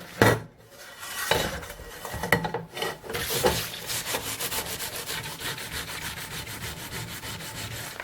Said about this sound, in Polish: patelnia się oczyszcza